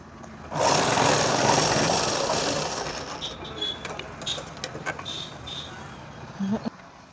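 A sewing machine stitches the lining of a Punjabi dress, starting with a loud continuous run that gradually fades into short, intermittent bursts of stitching with small clicks and handling noises.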